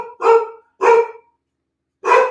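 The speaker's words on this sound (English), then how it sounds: "my dog is going to start barking" Three loud, close dog barks: two in quick succession, then a pause before a third.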